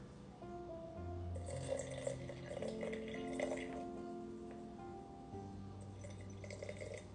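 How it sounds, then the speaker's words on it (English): Water poured into a jar of sourdough starter, a faint trickle and a few drips over a low, steady background hum. "And then I'm gonna add 50 grams of water."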